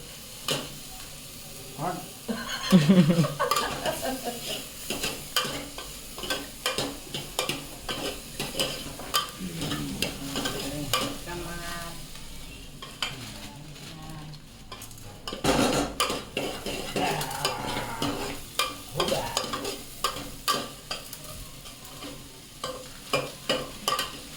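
Masala spices crackle and sizzle in hot oil while Maggi noodles are made in a home kitchen, with utensils clattering and stirring, and bursts of sputtering rise and fall; people chat nearby.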